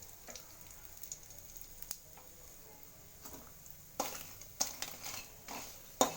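Byadagi chillies sautéing in oil in a pan, a quiet steady sizzle broken by a few sharp scrapes and clicks of a spoon stirring, close and without talk.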